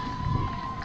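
A crowd booing, loud and continuous with a dense rumbling roar of many voices.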